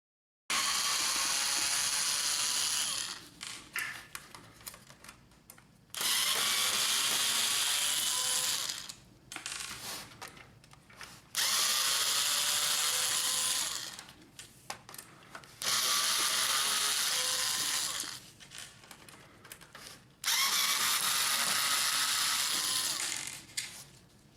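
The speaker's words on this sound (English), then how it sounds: "Remove the 5 screws on the side of the drum unit." An electric screwdriver backs out the five side screws of a Brother DR421 drum unit for the HL-9310 printer: five loud, sustained whirring runs of several seconds each, separated by short pauses with small clicks.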